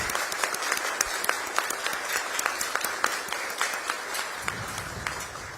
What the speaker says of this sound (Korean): 여러분, 뜨거운 박수로 우리 이재명 대통령님 네 분을 환영해 주시기 바랍니다